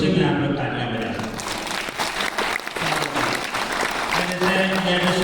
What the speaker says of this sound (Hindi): इस खुशी में आप लोग तालियां बजा सकते।